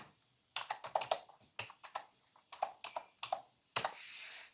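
Password being typed on a computer keyboard while setting up a Canva account: quick bursts of crisp key taps in short clusters, close and clear, with brief pauses between groups and no talking.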